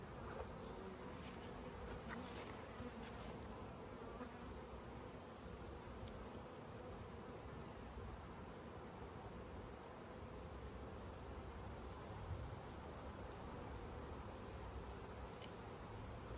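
A honeybee colony buzzes during a hive inspection for a mite wash, a continuous dense hum of many bees that stays faint and fairly even throughout, with a few nearer individual buzzes.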